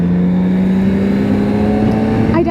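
A BMW K1600 GT six-cylinder touring motorcycle cruises along a Black Forest road, its engine giving a steady, loud, smooth drone with rising pitch under wind rush.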